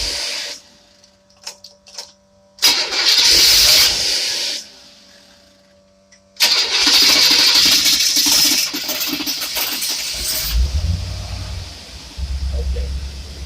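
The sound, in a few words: engine starting and running with AFB carburetors, remote accelerator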